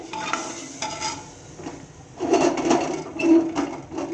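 A ladle scrapes and stirs through a pot of potato curry gravy, with louder clinking strokes toward the end and faint background noise.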